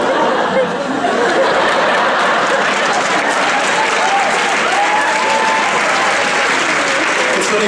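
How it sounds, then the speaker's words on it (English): A comedy club audience breaks into loud, sustained applause, a thick wash of clapping with faint laughter and chatter mixed in, continuing evenly throughout. "I just hear a bunch of like clapping."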